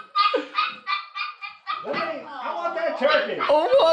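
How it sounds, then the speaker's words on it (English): Dogs in a video game eating turkey, a quick string of close, loud yips and barks followed by excited whimpering calls, with speech-like sounds mixed in. "The dogs are all eating turkey."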